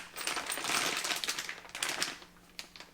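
Metal bolts, washers and nuts from a Whiteline rear sway bar mounting kit for a Fiesta ST clink and jingle together in their bag, a busy run of close, bright metallic rattles with short pauses and a few separate clicks near the end.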